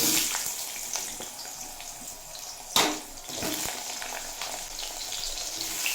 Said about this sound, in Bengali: আর সাথে দিয়ে দেব একটা শুকনো লঙ্কা ফোড়ন